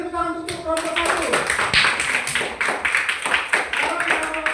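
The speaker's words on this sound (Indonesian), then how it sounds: "Beri tepuk tangan untuk kelompok 1." A classroom of students claps for a student group, fast uneven hand claps from many pupils close by, with voices of people talking over the clapping.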